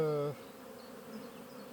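A large honeybee colony, started from a big swarm, hums at its hive: a loud, steady buzzing tone at first that drops after a moment into a softer, diffuse, continuous drone.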